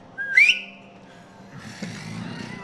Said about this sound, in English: It's a really intimidating whistle.